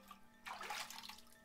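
Water is scooped with a bucket in the Ib Remake horror game, a short, soft splashing slosh that rises suddenly and fades within about a second over a low steady hum.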